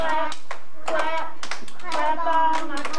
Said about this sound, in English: I'm gonna clap all my crazies out.